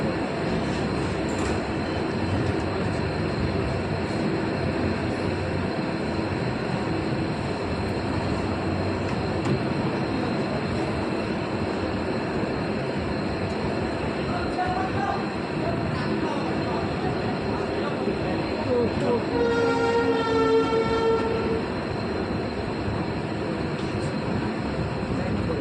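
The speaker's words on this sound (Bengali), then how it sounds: "গাড়ি ঢুকছে স্টেশনে।" A train pulling into Silchar railway station rumbles steadily throughout, with faint squeals from the wheels near the middle and a brief burst of high metallic screeching toward the end, the sound heard from on board.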